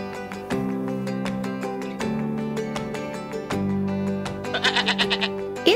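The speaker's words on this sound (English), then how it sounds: "It's a goat" A Fisher-Price learning toy or game plays a goat's bleat over a repeating bright music loop, the quick wavering bleats arriving near the end, loud and close.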